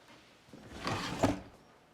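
A desk drawer slides open in an office with one soft, quiet, brief scraping glide that ends in a light knock, alone with no talking.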